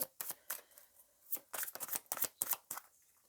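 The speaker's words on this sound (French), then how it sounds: "Alors, je mélange bien le jeu." A deck of tarot cards being shuffled by hand: a quiet, close series of quick papery riffles and flicks in uneven bursts with brief gaps between them.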